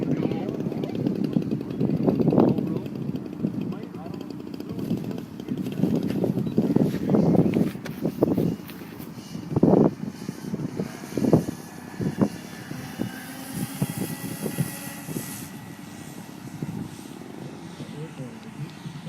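A model airplane engine drones and rises through a scale takeoff at an outdoor show, loud and roughly steady before fading as it climbs away, with people talking over it.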